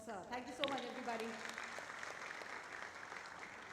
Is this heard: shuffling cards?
no